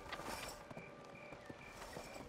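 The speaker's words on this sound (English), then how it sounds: "So let's go ride the donkey." Steady clip-clop of donkey hooves while riding in the Black Desert video game, rhythmic and moderately loud over a constant game background hum, with no talking.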